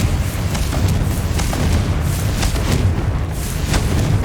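Confringo fire spell blasts in Hogwarts Legacy, a dense run of loud booming explosions layered over continuous rumbling combat noise with no pause.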